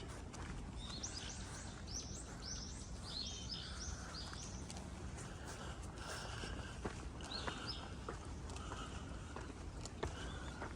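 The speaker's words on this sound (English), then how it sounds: "Me and the birds early in the morning." Birds chirp and sing in short, repeated phrases through a park on a rainy Okinawa morning, fairly faint over a constant wash of rain and soft footsteps, with no talking.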